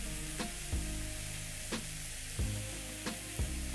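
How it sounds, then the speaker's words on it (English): Diced tomatoes go into a pan of chicken gizzards sizzling steadily, with a loud continuous fry and several soft thuds and scrapes at irregular intervals as the food is stirred. "I'm going to add 3 diced tomatoes."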